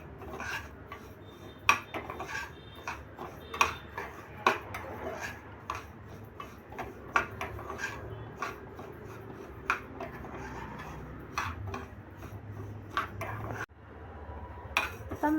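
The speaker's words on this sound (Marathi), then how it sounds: "आपण काळ्या मिऱ्याने सफेद मिरे याच्यात टाकणार आहोत, भाजून घेणार आहोत आणि हे असं छान भाजून घेणार आहोत" Black and white peppercorns dry-roasting in a hot pan, scraped and rubbed with a utensil, giving a steady dry rasping with repeated sharp ticks and clinks of metal against the pan, close up and without talk.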